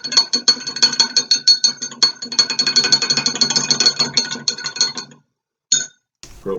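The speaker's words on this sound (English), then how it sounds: "Now it's a stir." A spoon stirs a grape drink in a glass, clinking rapidly and repeatedly against the sides in a loud, quick rhythm for about five seconds, then falls silent apart from one or two final taps.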